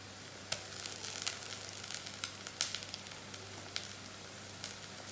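Homemade ginger garlic paste sizzles steadily in a hot pan as it is added, a soft continuous frying hiss with small crackling pops, fairly quiet and with no talking.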